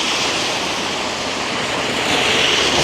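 Vehicles roll through wet slush on a Toronto street in miserable wet snow, giving a loud, steady hiss and splashing wash that swells slightly toward the end, with no voices.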